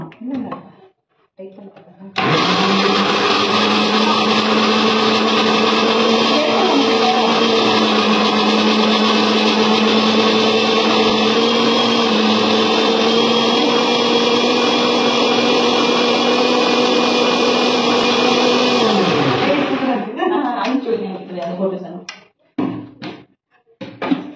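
A mixer grinder grinding tomatoes whirs loudly and steadily for about seventeen seconds, then winds down; brief clatters and a voice come before and after.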